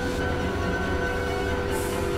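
A second train approaches in the horror video game Choo-Choo Charles. The rumble is loud and continuous, with low mechanical rolling noise and steady tonal hums, and a faint hiss rises near the end.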